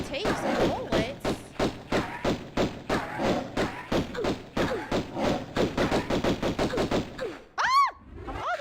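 Rapid gunfire from Tomb Raider Remastered, a long run of evenly spaced punchy shots close and loud, ending with a short whooshing, sweeping effect.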